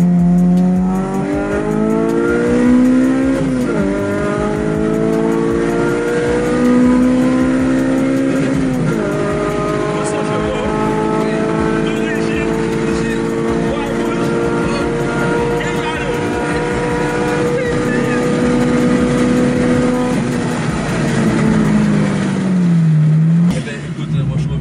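A Honda Civic Type R compact sports car engine revs hard and steadily. It climbs through the gears with brief dips at each shift, then winds down at the end, loud and close throughout.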